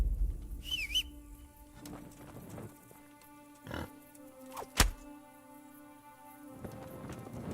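A pig in the medieval video game Kingdom Come Deliverance gives a few quiet grunts and snorts amid sparse ambient game sounds, with a high whistle-like call and scattered soft thumps.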